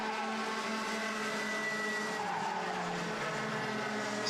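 A single-seater race car powers through the final corners of a circuit with a continuous loud engine drone and tire squeal, unbroken throughout.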